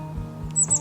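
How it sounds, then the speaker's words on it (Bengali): Birds call on a morning in the Darjeeling hills at Sittong, with a faint, steady background and a few short, high chirps near the end. "সকালে ঘুম ভাঙল পাখির ডাকে।"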